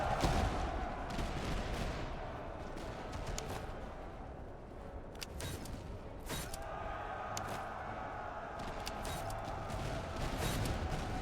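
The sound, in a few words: musket volley fire in a video game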